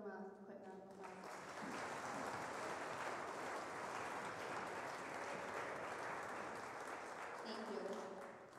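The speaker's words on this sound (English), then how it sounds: "So let's give them a quick round of applause." Audience applause at a spring school concert, starting after a brief tonal passage and swelling into steady, dense clapping that fills the room for several seconds, with a short voice near the end.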